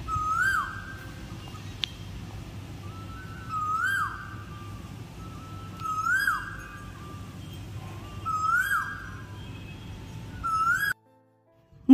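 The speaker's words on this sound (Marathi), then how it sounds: "त्यात हा मधुर कोकिळेचा आवाज" An Asian koel singing outdoors in the morning, a clear whistled call repeated about five times at steady intervals, moderately near over a low background rumble, cut off just before the end.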